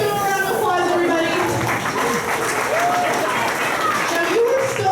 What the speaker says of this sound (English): And let's give a round of applause,